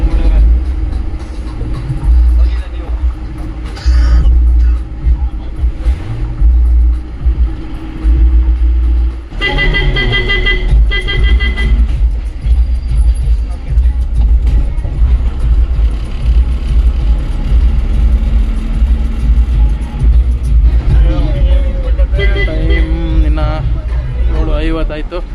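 A bus sets off with a full diesel tank on a family road trip toward Mantralayam: loud, continuous engine rumble on the road with repeated horn toots nearby and people talking inside.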